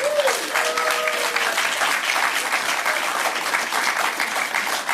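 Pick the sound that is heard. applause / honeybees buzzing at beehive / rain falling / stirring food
applause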